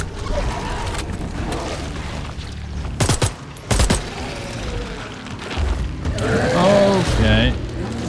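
Gunfire in the horror video game The Sinking City comes as two sharp, loud shots close together, set against a tense ambient backdrop with rumbles and eerie tonal sounds.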